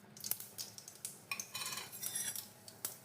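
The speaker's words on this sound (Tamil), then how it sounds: "எண்ணெய் காஞ்சிருச்சு, கடுகு உளுத்தம் பருப்பு போட்டுக்கலாம்." Mustard seeds and urad dal go into hot oil in a pan while making a sweet potato fry, giving quiet clinks and scraping stirs with light crackling bursts, close and intermittent.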